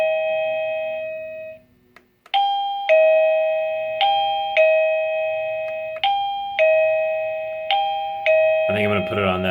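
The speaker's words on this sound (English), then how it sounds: "So I actually like the stock doorbell melody" AVANTEK D-3B wireless doorbell chime plays its ding-dong tones repeatedly at changing volume settings, several clear close strikes in succession after a brief pause, ending in a louder burst.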